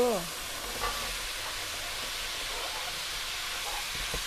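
Beef stir-fries in a pot as the base for Korean radish soup, making a soft, continuous hiss and sizzle that stays even and moderately quiet, with a brief voice at the very start.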